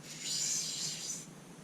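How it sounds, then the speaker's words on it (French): Automotive sandpaper rubbing over a fishing rod blank, a steady hissing rasp that swells and fades over about a second, close and alone with no talk. "Et après, ponçage au papier de verre carrosserie"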